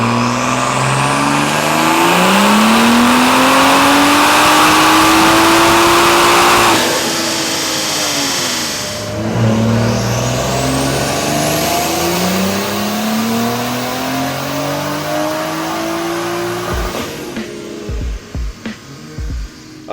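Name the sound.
BMW B58 turbo car revving in a 6th gear dyno pull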